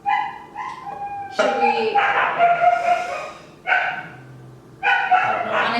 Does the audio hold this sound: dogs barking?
yes